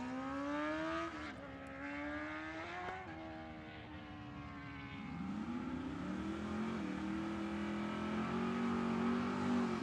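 Drag racing engines scream at Sweet Corn Outlaws: a loud revving run with rising and shifting tones, then another car's engine climbing in pitch, close and sustained with no talk.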